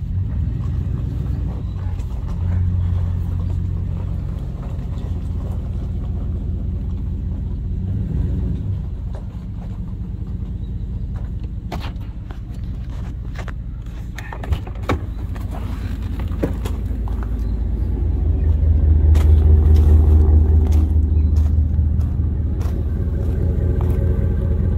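Steady low rumble of a 2011 GMC Sierra 2500 pickup engine running, a continuous deep drone with slight swells and a louder surge near the end, close and unbroken.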